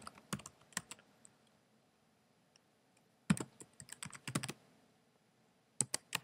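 Typing on a computer keyboard to fill out an account form: short bursts of close, quick key clicks separated by a long quiet pause in a silent room.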